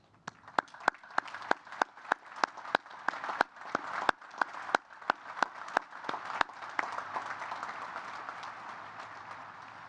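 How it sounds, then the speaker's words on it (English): An audience at the United States Naval Academy graduation applauds distinguished graduates, opening with a few sharp, separate claps that build into steady, moderately distant applause, which thins out toward the end. "Please join me in recognizing and applauding these distinguished graduates."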